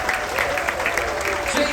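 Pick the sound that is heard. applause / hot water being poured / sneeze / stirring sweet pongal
applause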